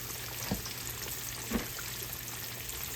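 Sliced yellow squash frying in a pan gives a steady, quiet hiss close by, broken by two faint soft pops or taps.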